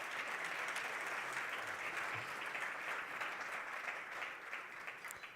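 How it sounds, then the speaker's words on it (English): An audience at the Namibia National Green Hydrogen Conference applauds Honorable Tom Alvendo, a dense, steady wash of many hands clapping that holds evenly throughout and tapers slightly near the end, with no voices over it. "We will be the applause for Honorable Tom Alvendo."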